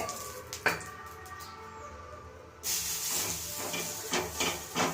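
Oil hisses and sizzles on a hot griddle pan while onion uthappam dosa is cooked, the sizzle swelling louder partway through with faint scraping bursts, no talk.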